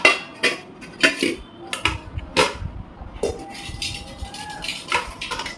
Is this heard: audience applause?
no